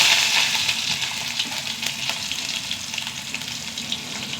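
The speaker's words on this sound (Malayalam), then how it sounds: "വെളിച്ചെണ്ണ ചൂടാവട്ടെ. എണ്ണ ചൂടായി. കടുക് ഇട്ട് കൊടുക്കുക." Mustard seeds sputter and crackle in hot coconut oil, a dense, steady hiss of close frying with scattered sharp pops and no voices.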